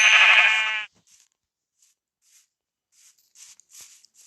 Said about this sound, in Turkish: Aha koyun. Ama siyah ya.